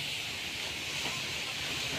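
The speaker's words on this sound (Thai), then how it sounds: "ลมมันแรงเหลือเกิน" Strong wind blows steadily at an outdoor spot where a tarp shelter was torn down, a constant broadband roar and hiss like wind buffeting the microphone, with no talk over it.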